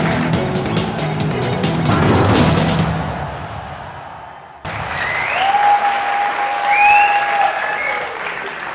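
Studio audience applause on a Pakistani TV cricket quiz show, a loud sustained clapping that breaks off abruptly midway, then resumes with a bright whooshing tone and sweeping effects over it.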